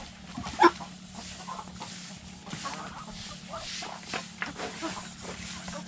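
Chickens cluck softly in the background, with one sharper squawk early on, while faint voices and ambient farm noise continue underneath.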